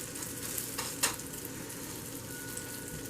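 Potato cakes sizzle quietly in a frying pan, a soft continuous crackle with a couple of faint scraping taps from a spatula early on, no voices.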